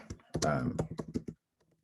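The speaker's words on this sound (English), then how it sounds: "I'll type that into the chat bar." Someone types quickly on a computer keyboard into a chat bar, producing a short close burst of key clicks that stops after about a second and a half. A voice-like sound seems to overlap the clicks.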